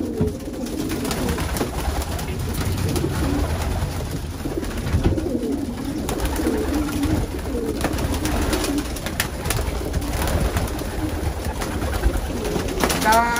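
Racing pigeons in the hen section of the Nakamura Loft coo steadily and close, layered soft calls over a busy loft murmur, with occasional flutters and faint background voices.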